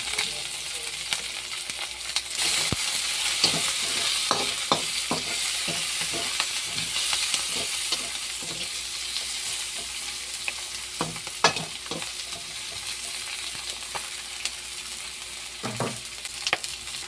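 Steady oily sizzling of tomatoes frying in oil left from frying fish, with scattered clinks and scrapes of stirring over a constant hiss.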